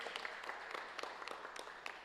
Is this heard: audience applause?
yes